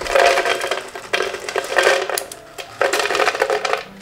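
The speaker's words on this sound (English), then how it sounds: "fill this up with ice" Ice cubes clatter and tumble into a glass for a cucumber drink, a close, busy rattling in several bursts with short pauses between pours.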